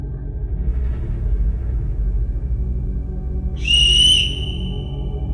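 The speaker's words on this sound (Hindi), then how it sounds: "उसी वक्त एक जोरदार सीटी से बिल्डिंग गूंज उठी।" A loud, shrill whistle rings out, echoing through an apartment building in Dubai, rising suddenly over a low rumbling background and holding for about half a second before fading.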